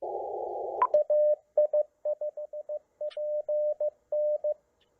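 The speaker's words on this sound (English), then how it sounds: "what you heard there was me giving my call sign. You heard that beep." Short tone beeps in dots and dashes from a CW radio transceiver send a call sign, following a brief burst of static; the keyed tone is clear and steady, with no voices.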